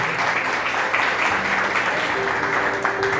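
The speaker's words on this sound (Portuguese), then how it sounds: "aplaudir bem forte a palavra de Deus" A church congregation applauding, loud sustained clapping filling the room, with a faint held musical tone entering partway through.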